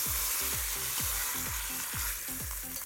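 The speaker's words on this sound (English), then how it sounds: "I'm just watching my pork loin sear" Pork loin sears and sizzles in a hot pan with a steady, close hiss, marked by regular low thumps and scraping as it is moved about; no one speaks.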